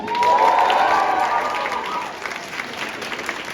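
An audience applauds and cheers at the grand final of a band contest, a loud continuous roar of clapping and shouting that stays dense throughout and eases slightly toward the end.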